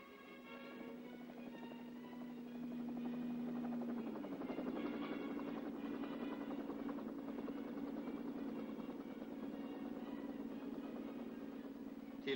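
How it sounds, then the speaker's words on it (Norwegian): Helicopter arriving on the opening day of a 1960 scout camp at Brunlanes, Norway: a steady engine drone with rotor buzz that swells after a few seconds and holds, moderately loud and somewhat distant, with faint narration underneath. "Til åpningsdagen ankommer speidersjefen og oberst Wilson i helikopter."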